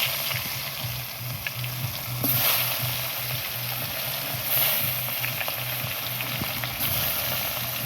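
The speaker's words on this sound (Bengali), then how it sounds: "কড়াইতে তেল গরম হয়ে গেছে, মাছগুলো দিয়ে দিলাম।" Fish frying in hot oil in a wok, a loud continuous crackling sizzle that swells in a few bursts over a low steady hum, with no one speaking.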